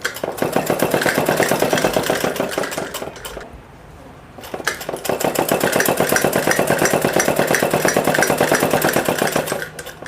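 A sewing machine runs in steady bursts as it stitches a girl's suit, with a rapid even needle chatter that stops briefly in the middle and then resumes. No one speaks.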